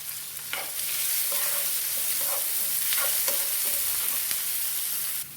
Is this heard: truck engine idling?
no